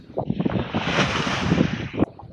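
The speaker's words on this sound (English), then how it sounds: "crazy ass waves, squalls, and swirly winds" Broadband wind and sea wash roar steadily around a sailboat rounding Cabo Cabrón in the Mona Passage amid squalls and swirling winds, loud and close, buffeting the microphone before cutting off abruptly near the end.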